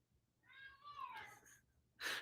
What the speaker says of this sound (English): Do you hear Ben yelling in the other room now?